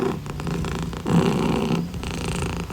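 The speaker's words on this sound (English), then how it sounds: "And he purrs really," Rescued male cat purring loudly and close up, a steady rumbling purr that cycles with each breath and continues without pause.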